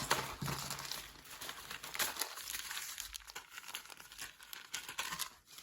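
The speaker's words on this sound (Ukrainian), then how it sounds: "Будемо разом з вами її розпаковувати та дивитись, що там всередині." Close crinkling and tearing of a plastic parcel of seeds being unpacked, with continuous rustling and crackling that rises and falls in bursts and no voices.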